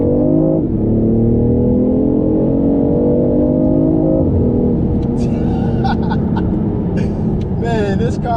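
A BMW i8 sports car drives with a steady, loud engine and road drone throughout, the pitch rising and dipping slightly as it changes speed, while a voice talks over it toward the end.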